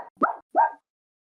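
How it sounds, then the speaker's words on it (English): Two short, sharp yips from a dog, close and quick in succession, followed by silence. "Nope, that was my dog."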